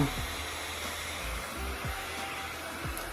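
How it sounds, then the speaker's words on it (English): A small handheld fan blowing on freshly applied false eyelash glue, giving a steady, soft whirring hiss with faint low thumps, close and quiet without talk. "I take my fan and I dry it"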